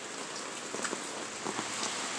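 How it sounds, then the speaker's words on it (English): Steady rain falling in a small storm within a mobile game, a constant hiss of droplets with a few brief spatters, heard alone without talking. "it's raining a lot. A little storm."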